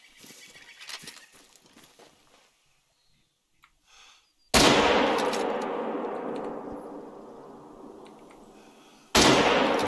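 Rifle gunshots in the hunting game theHunter Call of the Wild: two loud, sharp close blasts, the first with a long rolling echo fading over several seconds, after quieter faint ambient sounds.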